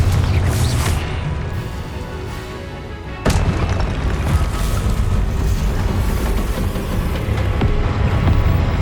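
Confringo fire-blast spell going off in Hogwarts Legacy combat on PS5 during the Percival Rackham Trial, a loud booming burst with a sharp new blast about a third of the way through amid continuous dense battle noise.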